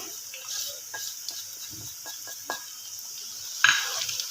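Spices tipped into mixed vegetables of potato, peas and carrot frying in a pan, giving a soft steady sizzle with scattered stirring scrapes and a brighter clink near the end.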